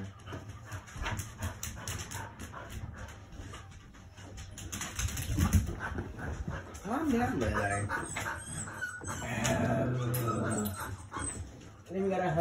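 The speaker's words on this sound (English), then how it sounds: "I got a German Shepherd mixed bull massive who's being a little bit too hyper today." A German Shepherd mix dog, worked up and hyper, pants and whimpers in short restless bursts close by, while someone talks over it.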